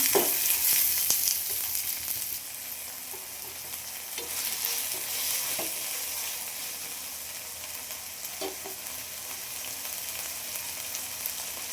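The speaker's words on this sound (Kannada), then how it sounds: "ಇವಾಗ ಹಸಿಮೆಣ್ಸಿನ್ಕಾಯಿ ಕುಟ್ಕೊಂಡಿದ್ದೀನಲ್ಲ ಅದು ಚೆನ್ನಾಗಿ ಫ್ರೈ ಮಾಡ್ಕೊಳ್ಳೋಣ" Tomato, onion and crushed green chillies sizzle steadily in a hot pan, a continuous broadband hiss with occasional soft clicks of a spoon stirring, moderately close and with no talking.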